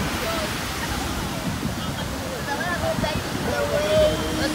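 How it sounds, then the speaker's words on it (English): Ocean waves at a Durban beach make a steady, broad roar of surf that swells slightly toward the end, with a few faint voices in the background. "The waves are beautiful."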